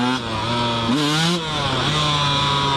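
A motorcycle engine revs hard and alone at close range, its sustained harmonic drone climbing in pitch around the one-second mark before settling back to a steady idle-to-mid rev.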